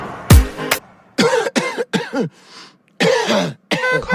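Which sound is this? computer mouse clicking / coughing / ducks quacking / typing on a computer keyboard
coughing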